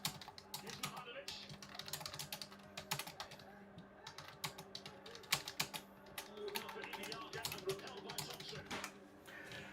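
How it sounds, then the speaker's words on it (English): Fast, busy typing on a computer keyboard, dense close key clicks in uneven bursts over a faint steady background murmur, no clear talk. "I'm typing into my computer like a crazy person"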